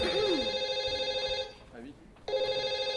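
A telephone rings loudly in repeated electronic bursts, breaking off briefly in the middle before ringing again, with a voice speaking over the start of the ring.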